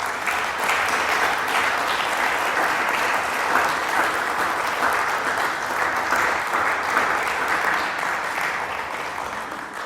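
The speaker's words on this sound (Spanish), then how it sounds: "Ríndale fuertes palmas al Rey, hermano." Congregation in a church applauding loudly and steadily, a dense wash of many hands clapping without pause for the whole stretch, with faint voices mixed in.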